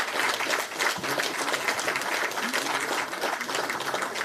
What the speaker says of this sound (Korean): 의원님들 큰 박수로 환영해 주시기 바랍니다